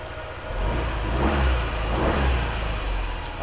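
A Honda ADV 150 scooter engine starts and settles into a steady, close running drone, swelling slightly in loudness with no talking over it.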